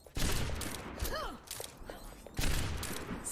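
A sniper rifle shot in an all-star esports video game match, a brief loud crack under game effects and a caster's voice, with other bursts of game noise around it.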